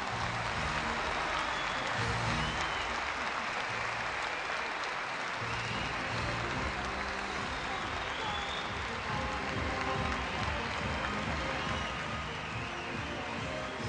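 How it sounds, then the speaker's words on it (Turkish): Sustained audience applause at a Turkish-language Olympiad event, a dense, loud, continuous wash of clapping from a large crowd lasting throughout without pause. "alkışlar sizin için"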